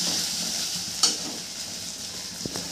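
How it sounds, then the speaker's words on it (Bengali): Dried red chillies and a ground cumin-coriander paste sizzle in hot oil, a steady close frying hiss broken by a sharp clink of a utensil and a soft stirring scrape near the end. "ওর মধ্যে দিয়ে দেবো হচ্ছে শুকনো লঙ্কা আর যে মশলাটা বাটলাম, জিরে ধনে, এটাও একটু ভেজে নেব"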